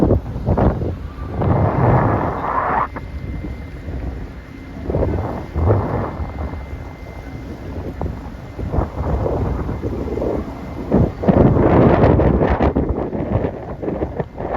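Steady gusty wind buffeting the microphone outdoors in Honolulu, Hawaii, a loud low roar rising and falling throughout with no voices.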